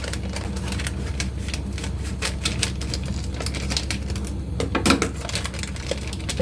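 A knife saws and snaps through a plastic bag of frozen molokhia in a home kitchen, giving a dense run of sharp crackling clicks and scrapes with a louder burst near the end.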